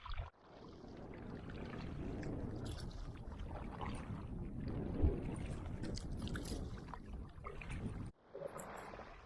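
Canoe paddling on a large lake: continuous watery swishing and splashing close by, with wind buffeting the microphone, ending in a brief quieter pause.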